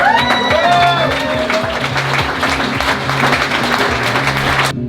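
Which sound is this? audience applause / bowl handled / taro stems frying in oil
audience applause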